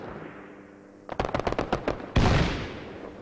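Video game gunfire in Arma 3 on the Tanoa map: after a quiet moment, a burst of about eight rapid automatic shots rings out, followed by a louder heavy blast that decays into a rumbling tail.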